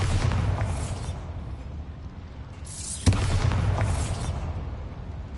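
A Bombarda blasting spell from Hogwarts Legacy on PlayStation goes off with a loud, sharp crack, set over a continuous heavy rumble with a deep boom rolling underneath.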